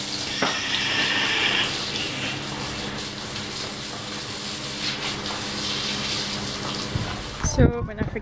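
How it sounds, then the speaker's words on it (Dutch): Water sprays steadily from a hose while a Haflinger horse is showered at an equestrian event, a continuous hiss that cuts off near the end, followed by a few thumps and clatters, with people talking over it. "Lekker douchen."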